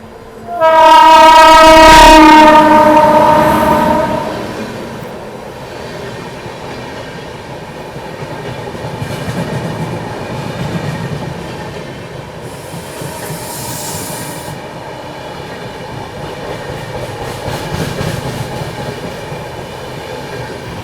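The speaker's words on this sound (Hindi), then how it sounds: "अजमेर दिल्ली शताब्दी की क्रॉसिंग होने वाली है।" An Ajmer–Delhi Shatabdi train crossing the Ranikhet Express opens with a loud, blaring horn blast, then the steady rolling rumble and clatter of passing coaches with faint wheel squeal, heard from inside the moving train.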